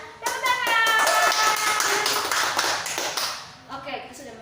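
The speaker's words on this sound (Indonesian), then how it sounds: "Tepuk tangan." Kindergarten children clap their hands along with a song in an online class, rhythmic claps running under loud singing voices for most of the stretch.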